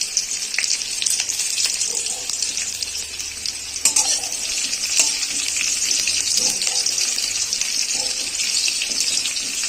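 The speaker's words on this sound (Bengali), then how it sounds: "পেঁয়াজ দিয়ে পেঁয়াজটাকে আমি ভেজে নেবো।" Onions frying in a kadai over a gas flame with dried red chillies, cumin seeds and bay leaf, a dense, continuous sizzle with occasional stirring scrapes, close and steady.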